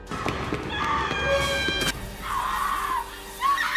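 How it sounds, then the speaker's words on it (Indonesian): A woman screams in short, shrill bursts over a busy, rumbling background, with a sharp cry cutting through near the end. "mendengar suara jeritan perempuan"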